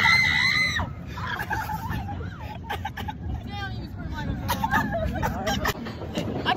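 Riders on an amusement park drop ride let out high, wavering screams, several overlapping shrieks near the start and scattered cries after, over a rumbling crowd murmur and nearby chatter.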